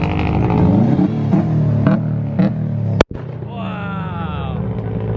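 A Mazda Miata's exhaust lets out one sharp, very loud gunshot-like bang at a street car gathering, cutting through nearby crowd chatter and engine rumble.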